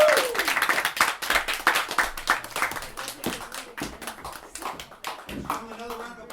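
A small audience at a parlor poetry reading claps for a poet, with distinct, fairly sparse handclaps in an uneven rhythm and a voice speaking over part of it.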